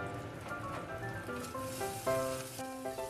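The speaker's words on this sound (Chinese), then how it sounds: "蒜、麻椒、香叶给它爆香" Hot pot base frying in a wok with garlic, Sichuan pepper and bay leaves, a steady, close crackling sizzle lasting throughout, with faint sustained tonal notes, likely background music, layered above it.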